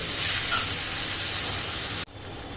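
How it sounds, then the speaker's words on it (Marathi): Onion and tomato with a little salt sauté in a pan, giving a steady, close hissing sizzle that stops abruptly near the end, with no voices over it. "कांदा टोमॅटो लवकर परतण्यासाठी ते थोडंसं मीठ टाकते मी. आता हे छान परतवून घेऊ"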